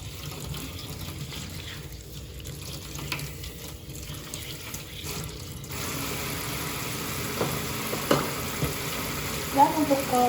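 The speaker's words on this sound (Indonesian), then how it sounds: "kita bersihkan menggunakan air mengalir sampai bersih" Scissors or instruments rinsed under running tap water: a continuous faint splashing hiss that grows fuller midway, with a few clinks and knocks and a brief voice near the end.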